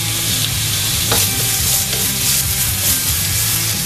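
Onions frying in a pan for thrice cooked pork, a loud continuous sizzle close up with faint scraping from stirring, no voices.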